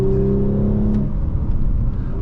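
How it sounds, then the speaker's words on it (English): A 2020 Audi S4 3.0T Prestige engine droning loudly from the cabin during a manual-mode downshift, a steady tone fading into a rougher rumble with faint crackly pops and no voices. "whenever you downshift in manual mode, you'll get that crackle"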